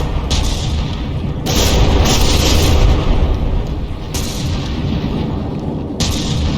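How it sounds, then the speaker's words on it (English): Heavy battleship artillery volley in the naval combat game From the Depths, a tournament battleship brawl: a dense run of loud, rumbling booms and blasts that swells midway, with several sharp fresh salvos cracking in near and loud and no talking. "See how effective this initial volley is."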